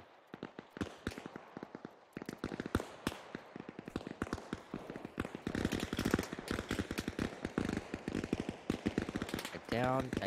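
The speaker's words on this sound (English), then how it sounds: "they're shooting through the windows or something" Gunfire in Arma Reforger, with rapid bursts of sharp cracks and automatic fire hammering almost continuously, some shots near and loud, others more distant, building in density toward the end, with a voice talking over it.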